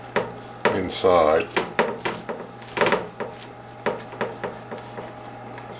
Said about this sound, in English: now I'm going to just kind of cut through the middle so you can have a look